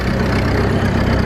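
A loud, steady low rumble of a tractor engine with a homemade scrap-metal exhaust running at idle, rough and continuous with no talk.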